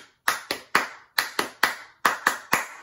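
Hand claps in a straight, even rhythm: nine crisp, close claps in regular groups with short pauses between, loud and dry with no voices.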